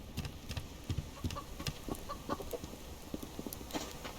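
Soft clucking from several chickens in the game Subsistence, scattered irregular clucks at low volume against a faint background, no talking.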